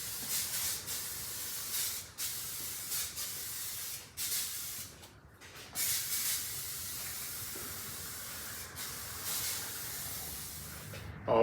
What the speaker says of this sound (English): So let me get to spraying this.